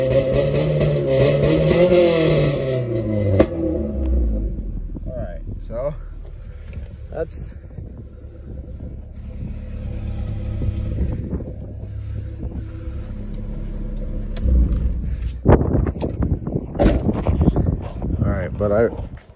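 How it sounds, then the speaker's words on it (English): A Honda Civic exhaust revs in rising and falling sweeps, loud at first, then settles into a lower rumble before a burst of harder revving near the end. A person talks over parts of it. "So yeah, the exhaust, like I said, it just sounds great."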